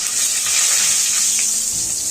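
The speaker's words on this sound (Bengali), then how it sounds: "জিরা তেজপাতা আর আলুটা এখন আমরা ভেজে নেব" Constant hissing sizzle of cumin, bay leaf and potatoes frying in hot oil, close by and fairly loud, with no talking.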